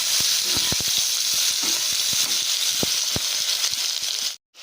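Loud, continuous sizzling of potatoes and onions frying in oil, broken by sharp scraping clicks of stirring, ending in a sudden brief silence.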